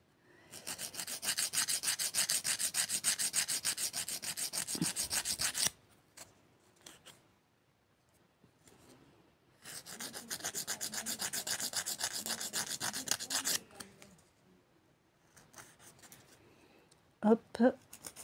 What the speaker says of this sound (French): on passe au limage